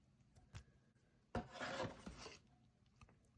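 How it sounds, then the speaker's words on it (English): A Fleer Ultra X-Men trading card slides into a snug plastic top loader, a short quiet scrape and rasp of card against plastic lasting about a second, with small taps and handling noises before and after. "These top loaders are a little snug"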